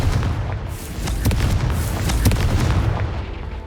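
A Confringo fire spell from the Hogwarts Legacy video game goes off in loud, booming blasts over a dense rumbling din, with a few sharper bursts punching through.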